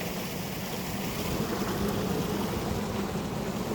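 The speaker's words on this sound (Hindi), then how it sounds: "इधर से ट्यूबवेल हमारा चल गया" A running tube well pump with water gushing out in a steady, continuous rush of broadband noise. It stays constant and fairly loud throughout, with no voices.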